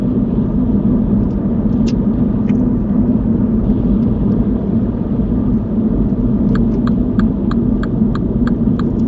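A car on a spiral roundabout changes up into fifth gear, its engine and road noise a continuous loud rumble, with faint regular ticking near the end.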